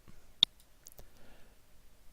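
A single sharp computer mouse click, near and clean, followed by a couple of fainter clicks and soft handling noise in a quiet room.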